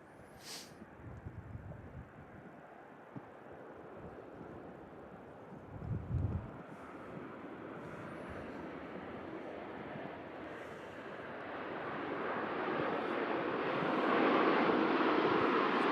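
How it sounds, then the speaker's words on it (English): Singapore Airlines Airbus A350 landing at Manchester Airport, a broad steady roar of the jet building gradually and growing louder toward the end, with wind buffeting the microphone throughout and no talk. "landing here on the Super Sunday show, landing in from Singapore is our first arrival"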